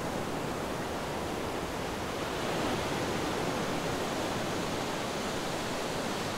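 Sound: ocean waves on a sandy beach

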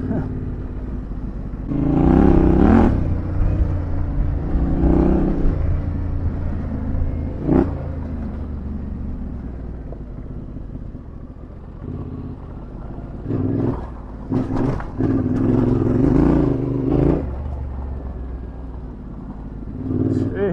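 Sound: Yamaha Tenere 700 motorcycle riding through a paddock

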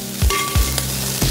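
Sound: stirring celery and rice frying in a pan

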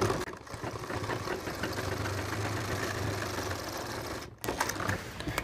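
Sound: sewing machine stitching a pant ticket pocket

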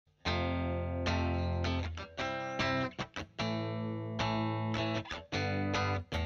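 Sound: electric guitar with overdrive pedal

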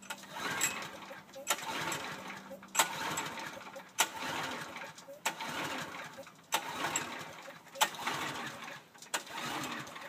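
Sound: Brave log splitter engine cranking, failing to start

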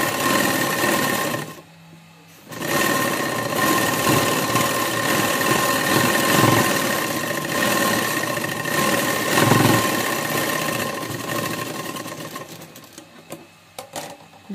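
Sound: sewing machine stitching the side seam of a burqa

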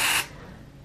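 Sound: lemon basil room spray being sprayed

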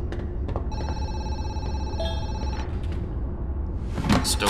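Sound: phone ringing in Zoochosis video game

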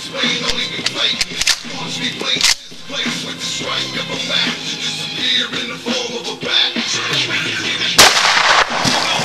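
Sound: shotgun firing buckshot

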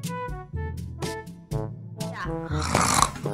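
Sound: person imitating snoring in Roblox Brookhaven roleplay

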